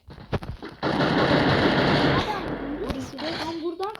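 Rapid bursts of gunfire from the video game Free Fire, a dense sustained volley that cuts off sharply, with a few separate shots before and after and a voice talking over the tail end.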